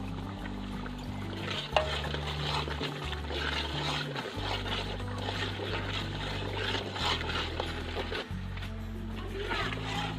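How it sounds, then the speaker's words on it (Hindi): Spices frying in a karahi for desi chicken karahi, a constant close sizzle with soft stirring scrapes, under a steady low background hum. "और मसालों को यहाँ पर 2 मिनट के लिए भून लेंगे"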